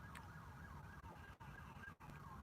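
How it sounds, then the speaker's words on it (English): A wailing police siren rises and falls steadily over a constant low traffic rumble, sounding distant and muffled. "Can you hear the sirens?"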